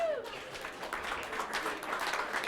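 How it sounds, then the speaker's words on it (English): Audience applause for first-time visitors at a 1 Million Cups Kansas City gathering, a steady wash of many hands clapping from the room, moderately distant, after a brief voice at the start. "let's give them a round of applause today"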